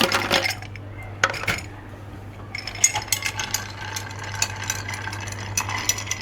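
Ice clinking and rattling against a mixing glass as a rum Old Fashioned with sugar and fresh vanilla pods is stirred, a steady close clatter of cubes after a brief opening burst, with a low hum underneath.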